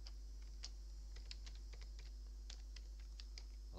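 Quick bursts of keystrokes as a password is typed on a computer keyboard, irregular clicks close by over a steady low hum, with no voices.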